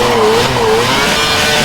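A Formula 1 race car in the F1 2011 video game spinning out at a corner, loud engine whine and tire scrub in one short continuous burst.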